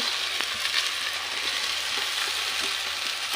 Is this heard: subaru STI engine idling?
no